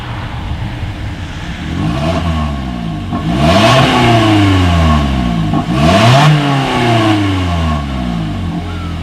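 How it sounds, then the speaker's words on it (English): A 2020 Toyota Corolla engine revs repeatedly, the exhaust note rising and falling in several loud, close surges over a steady idle. "As always, here is that exhaust clip."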